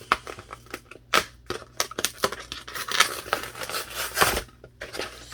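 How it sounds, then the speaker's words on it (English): A cardboard box being cut open with a cutter, with irregular close scraping, tearing and crunching strokes and sharp snaps in an uneven rhythm. "So I am going to go ahead and cut this box open."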